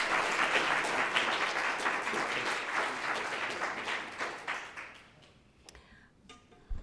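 An audience applauds to welcome a speaker at an evening talk on adoption and guardianship, steady clapping from a sizable crowd that fades out over the last seconds.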